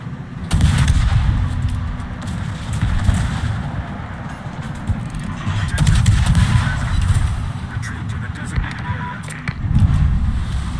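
Bombs from an airstrike dropping and exploding in a survival video game, a dense, continuous roar of heavy blasts and gunfire-like bursts rumbling loudly throughout, with several stronger booms rising near the start and end.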